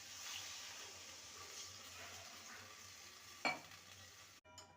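Water poured into a pan of vegetables and mung dal sets off a steady, close sizzle with stirring, a brief louder splash-like burst near the end, then a sudden drop.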